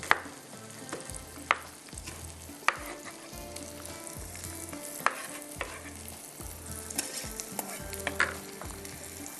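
Prawn and fenugreek masala stirred in a hot pan, a continuous close sizzle broken by regular spatula knocks and scrapes against the metal.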